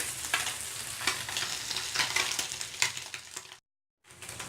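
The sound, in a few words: anchovy fish frying in a pan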